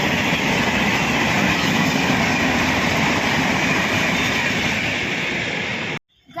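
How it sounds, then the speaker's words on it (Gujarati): A train rumbles past close by near Karjan, Vadodara, a loud continuous roar with rattling wheels that cuts off abruptly near the end. "તો રસ્તામાં ટ્રેન આવી ગઈ છે"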